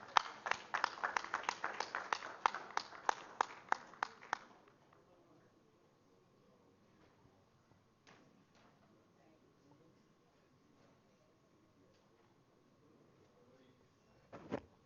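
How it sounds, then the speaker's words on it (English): Conference audience at a tuberculosis and leprosy stakeholders' meeting claps in a loud, dense burst for about four seconds, then it breaks off into a quiet room with faint scattered knocks and a brief sharp sound at the end. "Dr. Kazibwe, let us welcome him with a round of applause."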